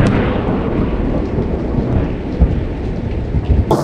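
Heavy rain pours steadily while a loud, close thunderclap rumbles and booms through it in a few low surges, with no one speaking.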